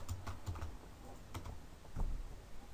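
Typing on a computer keyboard: a few quick key taps close by, quiet and irregular, with short pauses between bursts.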